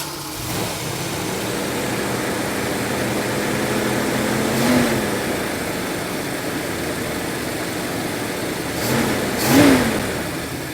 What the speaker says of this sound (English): Let's go ahead and run our carburetor dry.